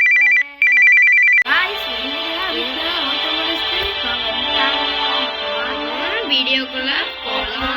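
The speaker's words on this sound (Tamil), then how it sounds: "அதுக்குள்ள எங்க அப்பா ஃபோன் பண்ணாரு" A phone rings with a melodic ringtone for an incoming call, a short tonal beep pattern first and then a busy musical ring that carries on steadily and fairly loud.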